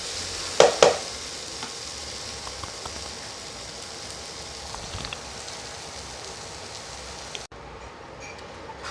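Chana masala spices fry in a pan with mutton fat, giving a soft, steady sizzle throughout, with a couple of sharp clinks near the start and a quieter stretch at the end.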